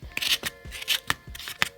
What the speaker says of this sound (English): I'm gonna try cutting this one with scissors